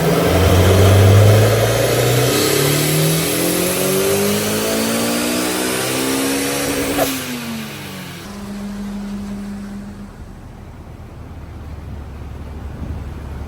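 A turbocharged car engine on a dyno, air box lid off with the filter open, revs hard through rising pitch, peaks, then drops back to a lower steady drone, loud and close with no talk.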